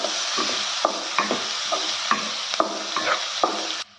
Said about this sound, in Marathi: कांदा जरा तांबूस होईस्तोवर परतून घ्यायचा आहे.